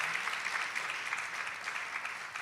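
Audience applause at an International Women's Day event, a steady wash of many hands clapping throughout, moderately distant and sustained.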